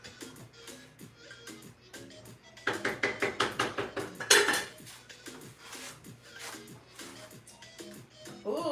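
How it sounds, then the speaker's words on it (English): A spoon scrapes and clinks against the bottom of a pot of Liberian pumpkin soup, giving repeated metallic scraping strokes that grow louder midway, with a voice talking softly underneath. "occasionally come and check on it and stir the bottom so it doesn't burn"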